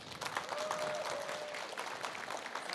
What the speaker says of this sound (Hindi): एक बार बजाओ जरा तालियां